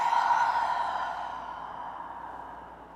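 A long, deep exhale through the mouth during a yoga breathing exercise, breathy and close, starting strong and fading gradually over about three seconds with no talking.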